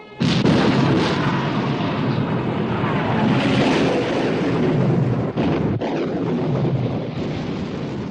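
Warship guns open fire in the 1960 war film Sink the Bismarck, a loud sustained roar of heavy blasts and rumbling with brief gaps, close and dense.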